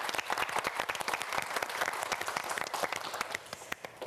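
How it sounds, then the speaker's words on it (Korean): Studio audience clapping for four student contestants on a TV quiz show, a steady, dense burst of applause that carries on for several seconds with no talk. "여러분 3라운드를 앞두고 있는 네 학생 모두에게 큰 박수 부탁드립니다"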